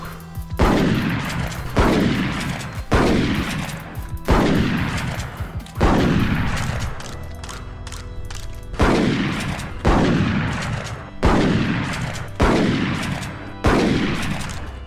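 Repeated booming shotgun blasts in a horror shooter set in a meat pit, about nine loud shots at a steady rhythm, each with a sharp attack and a decaying tail, with no talk over them.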